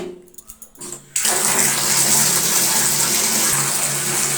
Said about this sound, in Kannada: ನಾನು ಬಿಸಿ ನೀರನ್ನು ತಿರುಗಿಸಿದ್ದೀನಿ ಬಿಸಿನೀರು ಬರ್ತಾ ಇದೆ